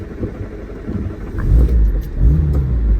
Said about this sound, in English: let's get this car on the road